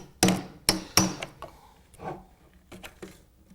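A steel chisel is tapped with a hammer to work a window glazing piece free, giving three sharp close strikes in quick succession followed by several quieter taps and scraping.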